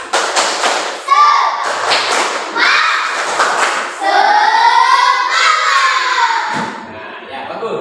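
Schoolchildren in a classroom perform a rhythmic spirit clap, loud clapping patterns mixed with their voices chanting together throughout.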